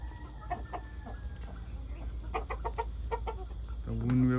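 Free-range country hens and roosters in a breeding setup cluck in scattered bursts, some close and some farther off, ending in a louder drawn-out call, with a faint voice in the background.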